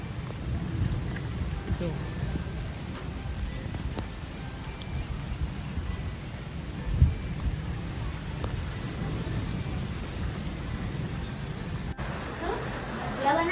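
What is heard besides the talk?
heavy rain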